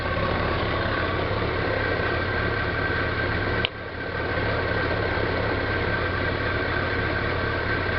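A 2001 BMW K1200RS motorcycle engine idles steadily with the clutch lever pulled in, a continuous close drone with no talk, briefly dipping once midway before resuming.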